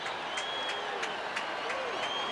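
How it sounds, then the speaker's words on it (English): A football stadium crowd at a Titans–Packers game cheers and claps faintly in the distance, a steady wash of applause with scattered whistles and voices, commentary talk running over it. "the people that are still sitting in their seats are cheering for Nall here"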